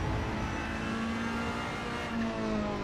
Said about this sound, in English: this car sounds fucking good